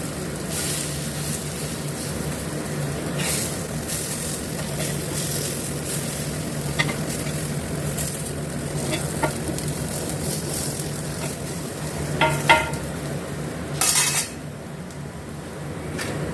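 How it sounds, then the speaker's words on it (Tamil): Vallikizhangu (yam) slices frying in a pan with betel leaves, a steady close sizzle throughout with occasional scraping stirs and brief clinks of the spatula against the pan. "குக் ஆகிட்டுருக்குதுங்க அங்கே திருப்பி போட்டுடலாம்"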